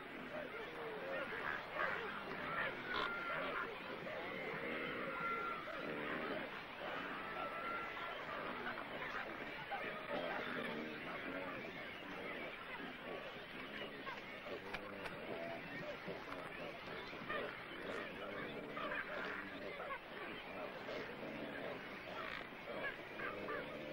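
A colony of white pelicans at a nesting island makes a faint, continuous low chatter of honking calls, heard from some distance without a break.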